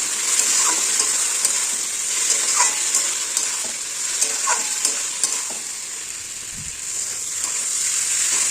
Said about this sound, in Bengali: একটু জল দিয়ে কষাবো